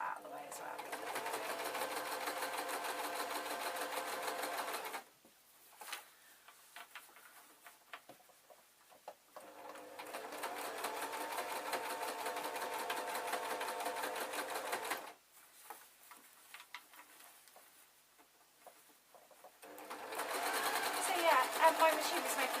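A sewing machine stitches elastic onto a beaded clutch bag, running in three loud, close bursts of rapid, even whirring and ticking with quiet pauses between them, and a voice talks in the gaps.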